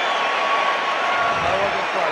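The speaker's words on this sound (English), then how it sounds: "listen to the cheer as the crowd see those replays" A large rugby crowd at Twickenham stadium roars and cheers in a steady, broad wash of noise, with a commentator talking over it.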